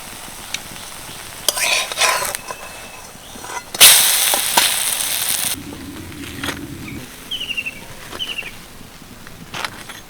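Drumstick-leaf snacks fry in a pan with a busy crackling sizzle, broken by clinks and scrapes of a utensil and one louder burst of spitting oil partway through; no one speaks.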